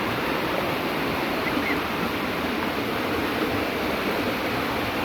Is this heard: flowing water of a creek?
yes